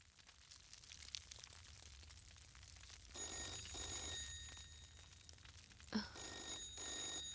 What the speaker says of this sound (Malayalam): നീ ചെന്ന ഫോൺ എടുത്തേ